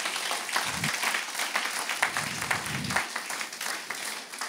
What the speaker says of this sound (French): on peut acclamer le Seigneur. Acclamer le Seigneur.